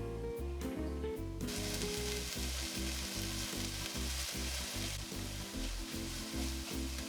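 Minced garlic sizzling in a pan while making an Italian white bean and prosciutto soup: a steady, close frying hiss that runs throughout, with no one talking.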